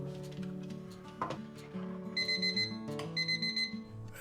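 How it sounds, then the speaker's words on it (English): A kitchen timer set for 60 seconds beeps as it is programmed in a kitchen where paneer is being made, with button tones followed by two bursts of rapid repeated electronic beeping, fairly close and alone. "set the timer for 60 seconds"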